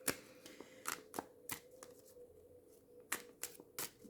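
Tarot cards are shuffled and pulled in a quiet room, a series of sharp, close card snaps and flicks spaced irregularly over faint background hiss, with no talk.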